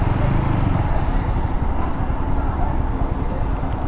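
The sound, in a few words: TVS Apache RTR 160 4V motorcycle riding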